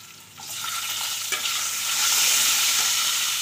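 Potatoes tipped into a pan of hot oil with green chillies and spices, a sudden rising sizzle that swells and settles into steady close frying hiss, with no voices.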